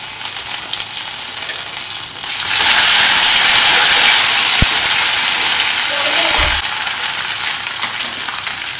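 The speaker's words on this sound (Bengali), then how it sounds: "ফোড়নটা আমার ভাজা ভাজা হয়ে গেছে। এবার আমি একটু আদা বাটা দিয়ে নেব।" Ginger paste dropped into hot oil with fried whole spices bursts into a loud, steady broadband sizzle that swells after a quieter start and eases slightly near the end, with a brief thump or two from the pan.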